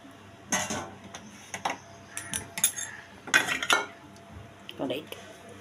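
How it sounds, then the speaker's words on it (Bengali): A metal wok is washed out with hot water, producing a series of sharp clanks, knocks and scraping rattles at irregular intervals, close and fairly clear. "একটু গরম জল দিয়ে ধুয়ে দিচ্ছি।"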